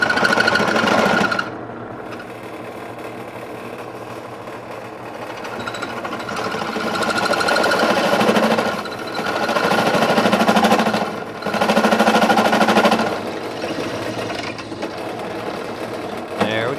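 A steady mechanical whirring of a drill press running at its slowest speed, drilling out a metal nut from a John Deere 5300, with rising and falling pitch as it bites, loud and continuous.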